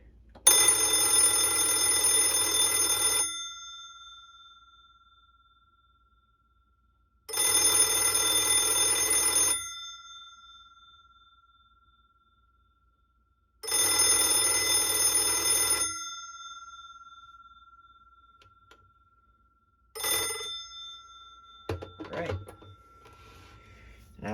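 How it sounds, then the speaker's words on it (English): An old mechanical rotary telephone bell rings loudly in three long bursts separated by silent pauses, followed by a short ring and some handling noises. "And the best part is the ring."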